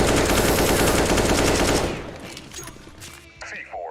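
Rapid automatic gunfire in a Counter-Strike match, a loud dense burst that cuts off after about two seconds and leaves quieter in-game sounds and faint talk behind it.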